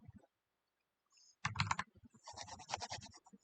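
Computer keyboard keys clatter in quick bursts of typing during a VirtualBox virtual machine setup, close and moderately loud with brief pauses between runs of keystrokes.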